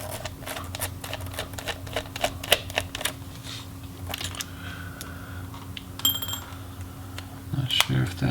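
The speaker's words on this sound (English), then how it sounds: "So I'm going to go ahead and just remove the battery screws, and we can remove the battery." Small screws being backed out of the battery on a Dell G5 5587 laptop, heard as scattered light metallic clicks and taps over a steady low hum, with faint talk in places.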